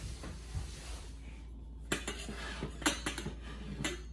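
Metal pots and pans clank and clink while being rummaged through in a home kitchen for a small saucepan, with a string of irregular clatters and knocks close by over a steady low hum.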